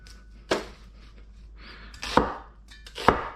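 A knife chops through a giant onion in three sharp, separate cuts spaced about a second apart, close and crisp against a quiet kitchen.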